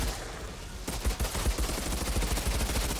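Rapid gunfire in the co-op shooter Outriders, fired from behind cover: a dense run of sharp, loud shots that bursts in after a quieter opening and keeps going steadily to the end.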